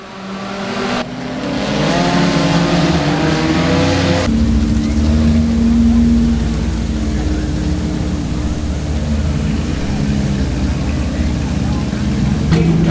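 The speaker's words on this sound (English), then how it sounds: "Underway in your 4-cylinder main event here at the Hill, as they head off into 1 and off of 2 down the back straightaway" Four-cylinder race cars on a dirt oval at Boothill Speedway drone together in a steady, loud roar as the pack heads down the back straightaway, under an announcer's continuous commentary.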